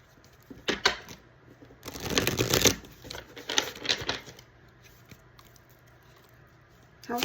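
Tarot cards are shuffled close by in a few quick riffling bursts of soft papery patter and flicks, separated by quieter gaps.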